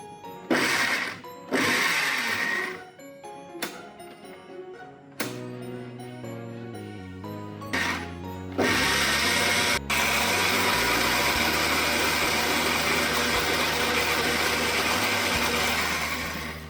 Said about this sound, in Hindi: चलिए अब आम को ग्राइंड कर लेते हैं।